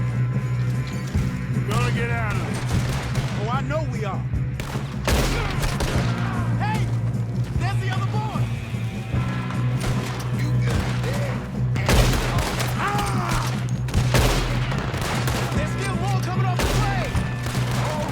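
A Red Dead Redemption 2 shootout fills the clip with repeated gunshots, dense volleys mixed with single cracks, under a continuous music bed. Voices speak and shout between the shots.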